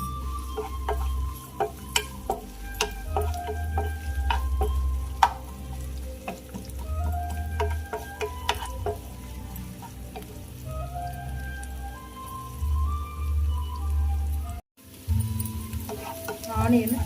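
Onions sizzle and fry in a hot pan for a Spanish egg omelette, a continuous crackling hiss with scattered sharp pops, close and fairly loud, and a brief drop-out near the end.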